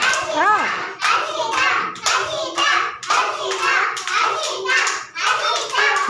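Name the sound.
children clapping hands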